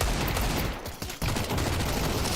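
Dense, rapid pistol gunfire crackles almost without pause during a Counter-Strike tournament match between NAVI and Astralis, loud and close, with only a brief dip midway.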